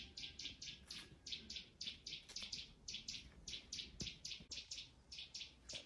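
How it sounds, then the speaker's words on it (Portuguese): A small bird in Transylvania chirps in rapid, evenly spaced bursts, a bright repeating series of high notes, faint and outdoors with a light background hush. "Olha o passarinho."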